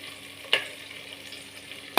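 Chicken 65 fries in a pan, a steady soft sizzle with two sharp spatula clicks or stirs, close and heard alone.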